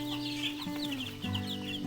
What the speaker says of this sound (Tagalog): Ito naman 2 days old na mga sisiw.